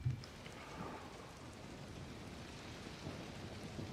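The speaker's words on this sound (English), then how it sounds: "You know, it's raining, it's peaceful, it's therapeutic." Steady rain falls in a scene from the TV series Better Call Saul, a dense, even hiss of drops on surfaces with a soft low rumble underneath, continuous and calm with no voices.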